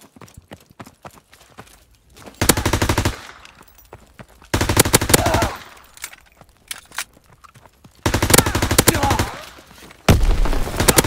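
An MP40 submachine gun fires in Call of Duty WW2 in several loud, sustained automatic bursts of rapid shots separated by short quiet gaps.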